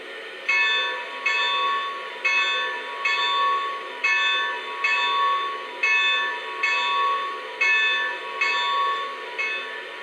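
A Lionel Legacy S2 Pennsylvania Railroad steam turbine model locomotive rings its bell in a steady, even rhythm: bright metallic clangs about once a second, each decaying before the next, heard alone and fairly loud.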